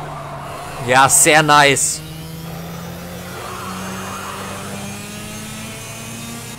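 A race car corners in the Project Cars racing game, its engine droning steadily and rising slowly in pitch as it runs through a bend. Someone speaks briefly in German over the engine near the start.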